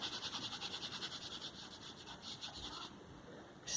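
A colored pencil glides lightly across paper in a steady, soft scratching rhythm of short back-and-forth strokes, close up and faint, with no talking.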